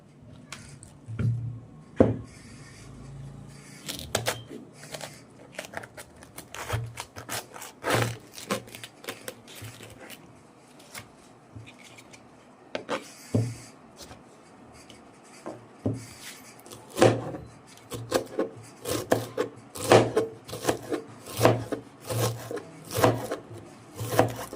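Knife slicing cucumber, cabbage, apple and lettuce on a wooden cutting board for salad, with repeated close chopping and crisp cuts in an uneven rhythm, alone without talk.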